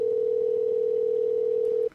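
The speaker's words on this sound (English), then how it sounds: "I got a ring going on my ear here." A telephone call line gives a single steady ringing tone that holds loud and even for about two seconds, then cuts off sharply, with no talk over it.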